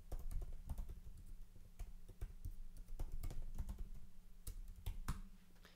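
Rapid typing on a computer keyboard while writing PHP code, a dense run of close, crisp key clicks with irregular bursts and brief pauses, no voices.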